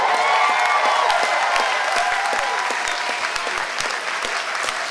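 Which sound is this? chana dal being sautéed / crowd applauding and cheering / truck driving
crowd applauding and cheering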